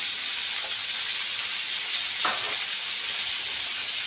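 Tomatoes and green chillies frying in a pan for a homemade chutney, giving a steady, loud broadband sizzle with a brief stirring scrape partway through and no voices.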